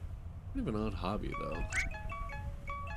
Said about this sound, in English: Oh, that's my phone.